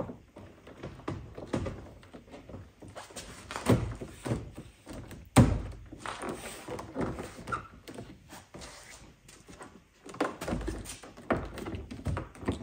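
A VW Touareg 7P front door card is pressed back into its groove, giving a series of dull thunks and taps at irregular intervals, with one sharper knock near the middle. Nobody speaks.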